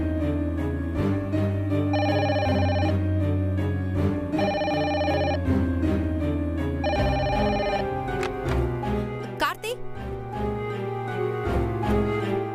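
A telephone rings in three evenly spaced electronic bursts over background music in an indoor scene from a Tamil television drama, the rings clear and prominent.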